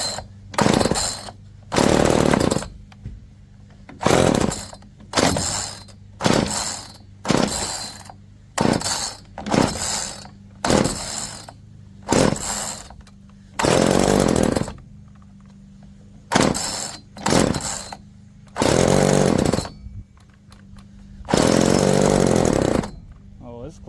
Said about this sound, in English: Let's put it in the run position, start choke on, see what happens.